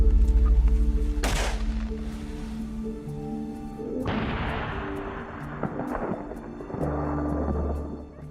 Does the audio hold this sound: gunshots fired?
yes